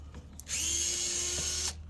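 An electric drill or power screwdriver runs steadily for about a second, backing bolts out of the handle of an electric beekeeper's smoker, close up over a low background hum.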